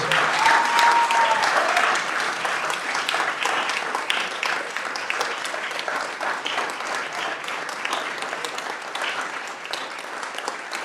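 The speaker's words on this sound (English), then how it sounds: "will you please give a round of applause to our state champions, Salisbury Hornets" A room at a county board of commissioners meeting applauds the state champion Salisbury Hornets. The clapping is dense and steady for about eleven seconds and fades slightly toward the end, with a brief whistle early on.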